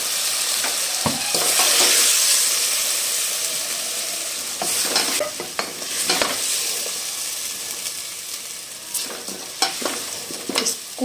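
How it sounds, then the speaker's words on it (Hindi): Potato and carrot sabzi is stirred and fried in a pan, a steady sizzle running throughout with repeated scraping strokes of a spoon against the pan, loud and close, with no talk. "एक आधा मिनट बस मैं इसको और इस तरह भूनूंगी"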